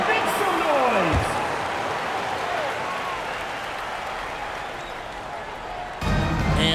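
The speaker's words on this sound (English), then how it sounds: "give a big round of applause for your youth dance squad" Arena crowd at a Miami Heat versus Charlotte Hornets basketball game applauding and cheering the youth dance squad, a loud, steady wash of clapping and crowd noise that fades slightly, with an announcer's voice over it.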